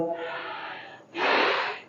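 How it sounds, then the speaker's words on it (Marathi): A deep, steady inhalation drawn during a seated pranayama breathing exercise, a soft airy rush that swells loud and close after a quieter breathy stretch, heard alone without talk. "पुन्हा श्वास घ्या"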